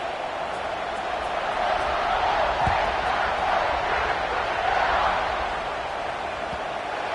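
Stadium crowd in a college football video game, Sept vs OSU, keeping up a broad, continuous roar of cheering through the whole clip with slight swells and no break in the noise.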